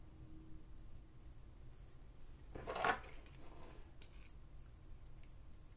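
A small Bluetooth key finder tracker, set ringing from its phone app, gives repeated bright chirping beeps in quick rhythmic bursts, fairly faint and steady throughout, with a brief louder rustle or knock partway through.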